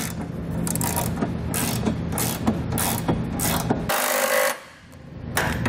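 A ratchet snugs down flange nuts on a Curt trailer hitch receiver being fitted to a 2016 Ford Edge, a steady close mechanical clicking and whirring that stops briefly near the end.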